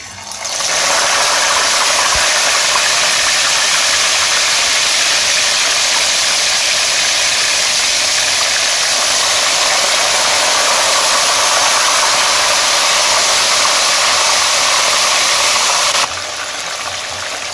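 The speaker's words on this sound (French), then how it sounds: "Je vais commencer à frire les poissons." Fish frying in hot oil over medium heat, a loud, steady broadband sizzle that fills the whole stretch without pause and drops slightly near the end, with no talking.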